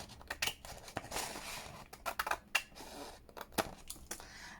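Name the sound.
scissors cutting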